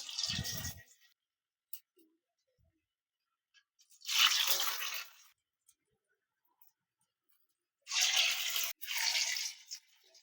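Round potato balls dropped into hot oil for frying, each landing with a short close sizzling burst, three or four separate hissing spurts with silence between them.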